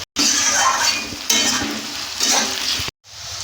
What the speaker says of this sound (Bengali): আর এর সাথেই আমি দিয়ে দেব কুচানো আদা আর রসুন দিয়ে এটাকে কিছুক্ষণ ভালো করে ভেজে নেব